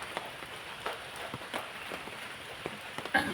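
Steady rain falls and patters on a surface nearby, a continuous hiss broken by scattered louder drips and splashes, with no voices.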